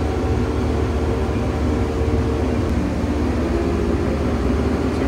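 The engine of a Rogator 1300 C Series self-propelled crop sprayer drones steadily as the machine starts to roll, a loud, even, broadband rumble with no pauses or voices.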